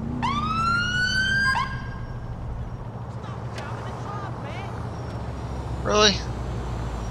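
A police-style siren in Grand Theft Auto IV wails briefly at the start over a constant engine rumble, followed by scattered electronic game noises and a short chirpy burst.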